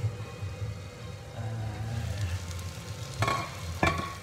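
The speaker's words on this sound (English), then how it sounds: "Now I'm going to do a bit of stirring." Butternut squash curry sizzling in a frying pan while being stirred, a steady low frying hiss with a couple of louder scraping knocks of the utensil near the end, close and without talk.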